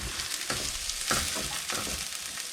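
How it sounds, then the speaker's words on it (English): Celery sizzling in a hot stir-fry pan for fried rice, with a few scraping strokes of stirring breaking through a steady close hiss. "Add your celery. Give it a nice full stir."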